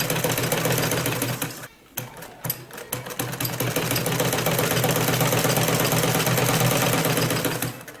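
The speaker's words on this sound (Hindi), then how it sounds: "इसका पाँव ऊपर करके मशीन का पैर और इसको ऐसे सिलाई करना" A sewing machine stitches a sleeve, sewn with two threads. It gives a steady, close mechanical whirr that runs almost the whole time, with a short pause and a few stops and starts near the second mark.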